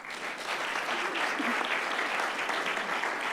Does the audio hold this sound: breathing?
no